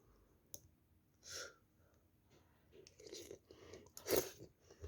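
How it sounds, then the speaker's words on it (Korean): Close, quiet chewing of curry mixed with green onion kimchi: soft wet crunches and clicks in an uneven rhythm, with a louder crunch near the end and no talking. "파김치랑도 먹어볼게요 비벼서 이렇게 먹으면 되겠죠?"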